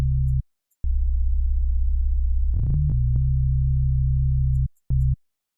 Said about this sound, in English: make sure everything's a sine wave.